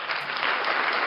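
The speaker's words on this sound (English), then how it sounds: "Round of applause for you guys." A live show audience on a Saturday evening applauds, a brief, full, steady burst of many hands clapping.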